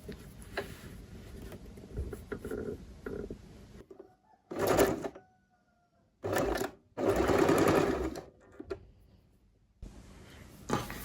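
An electric sewing machine stitches the side pocket of men's trousers, running in bursts of rapid, steady mechanical whirring separated by short pauses, close and loud over a quiet room.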